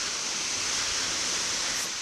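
Caribbean sea waves churned up as Hurricane Beryl approaches make a steady, hissing wash of surf, broad and continuous without distinct breaks, heard alone at moderate distance.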